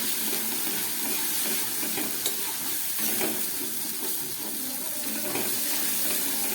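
Jackfruit kofta curry sautéing in a pan with a little water added gives a steady sizzle and hiss with faint stirring scrapes, close and continuous, and no voices.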